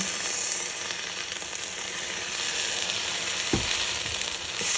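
Steady, loud sizzling of stinging nettles frying in a hot cast iron pan, a continuous crackling hiss with an occasional soft clunk.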